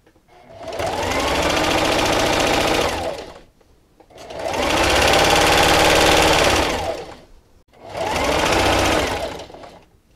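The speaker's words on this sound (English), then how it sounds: "And just keep sewing." A sewing machine stitches a fleece blanket in three long bursts of fast whirring needle motion, close and loud, with brief pauses between runs.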